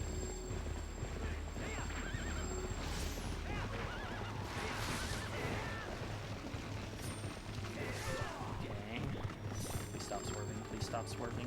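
In the video game Twilight Princess HD, a horse gallops with quick rhythmic hoofbeats and gives a whinny, moderately close, under near-constant spoken commentary and game sounds.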